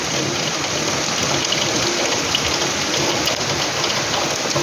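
Heavy torrential rain pours down outside a house, a dense, steady hiss of drops hitting surfaces, loud and unbroken with no voices.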